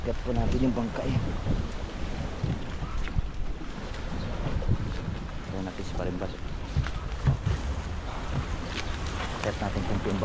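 Small fishing boat out on Taal Lake, with steady wind buffeting and water lapping across the whole stretch while someone talks briefly over it.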